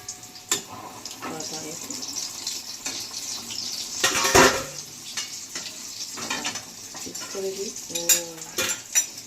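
Beguni, battered aubergine fritters, frying in a pan with a soft continuous sizzle, broken by utensil clinks and scrapes and a loud clank partway through, close up, with a voice speaking at times.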